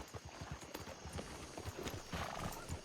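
Horse hooves in a western roleplay video game, a quick run of rhythmic clip-clop steps on ground, close and moderately loud, with a brief neigh.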